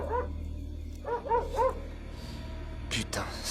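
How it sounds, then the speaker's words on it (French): Dog barking in a few short, high bursts at moderate distance, with quiet pauses between, alone without talk. "ce chien me rend complètement barjou"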